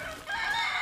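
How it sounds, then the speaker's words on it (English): A chicken or rooster crows outdoors, a short strained call rising after a brief pause and holding steady, heard alone without talk at a moderate distance. "Chickens."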